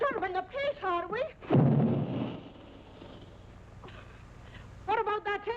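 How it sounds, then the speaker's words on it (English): In a radio drama, an air gun's sound effect booms as a single heavy, rumbling blast that fades slowly, set between stretches of spoken dialogue. "What about that air gun of yours booming all day and night?"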